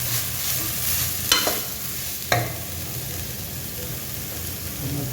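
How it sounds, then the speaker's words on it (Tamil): Grated coconut being sautéed and stirred in ghee and oil for a rolled coconut sweet, a steady close sizzle with a couple of sharp spoon scrapes against the pan. "இது எண்ணெயிலே நல்லா வதக்கணும்."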